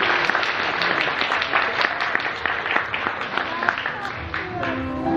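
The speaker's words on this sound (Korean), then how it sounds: "자, 박수." Wedding guests applauding in a convention hall after the vows, a lively burst of many hands clapping close and loud, with faint voices mixed in toward the end.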